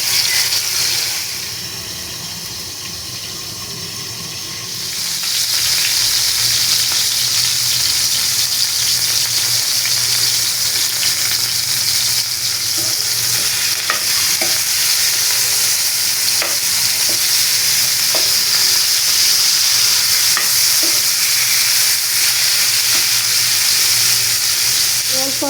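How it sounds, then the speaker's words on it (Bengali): Parotha or tandoori frying slowly in a pan on low heat at home, a steady continuous sizzle close by, quieter for the first few seconds and then holding evenly with faint clinks. "দেখো মাশাআল্লাহ কত সুন্দর করে আস্তে আস্তে ভাজা হচ্ছে।"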